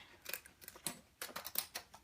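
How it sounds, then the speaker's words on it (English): Scissors snipping through a chalk transfer sheet, a quiet series of short crisp cuts in uneven bursts, close and alone. "You probably should use really good scissors for this."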